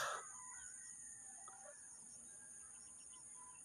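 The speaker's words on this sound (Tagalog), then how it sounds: "Mahirarinig mo ang huli ng mga ibon." Faint birds call in the distance over a steady high insect drone in Barangay Lambac, Pagsanjan, Laguna, with a brief louder sound at the start and no voices.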